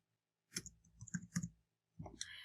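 Brief bursts of computer keyboard typing, several quick key clicks in two short clusters, close and faint with a quiet pause between.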